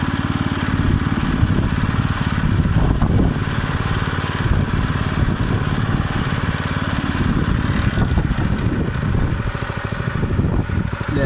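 A Forest Master FM6DD wood chipper's small engine runs steadily close by, a continuous loud, buzzing drone that holds an even pace without pause.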